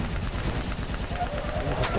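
Sustained gunfire in Black Ops 3, dense and continuous, with rapid rhythmic shots blending into a loud, noisy battle din.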